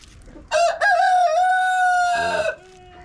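A rooster lets out a single loud, close crow that rises and then holds a long drawn note, near a hen settled on eggs, with a soft cluck trailing after.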